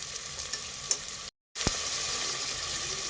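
Two medium chopped onions frying in hot oil, a loud continuous sizzle broken by a short silent gap before resuming with a stir clatter.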